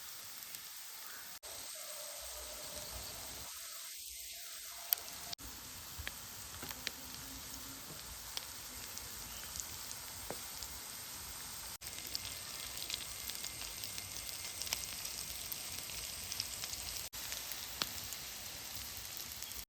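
Curry leaves sizzle in hot oil alongside frying soya chunks, a quiet, even hiss peppered with small crackles and pops that carries on steadily with no voices.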